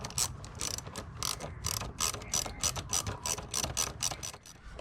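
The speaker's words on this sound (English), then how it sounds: "Tightening up my air intake tube." A ratchet wrench clicks in quick repeated bursts while tightening the air intake tube clamp on a 2004 Toyota Camry, close and fairly loud, with rhythmic strokes and short pauses and no voices over it.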